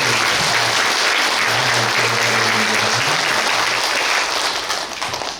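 A church congregation applauds together at a 30th anniversary Sunday service, steady sustained clapping that fills the hall at full loudness and tapers slightly at the end, with a low voice or hum faintly beneath.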